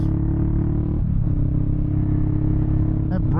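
A 2022 Honda Rebel 500 parallel twin motorcycle engine rumbles steadily up close at a constant throttle, a dense low thrum with stacked harmonics, while a rider talks over it.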